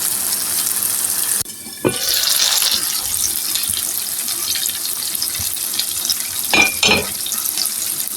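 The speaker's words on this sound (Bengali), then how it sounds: "চুলার তাপটা কিন্তু একবারে মিডিয়াম টু লোয়ে রাখবো কারণ ধীরে ধীরে আমি সিদ্ধ করে নিব যেন নিচে লেগে না যায়" Green tomato pickle cooking in a pot on the stove over medium-low heat, a steady soft bubbling hiss throughout, with a couple of brief louder clinks or stirring scrapes.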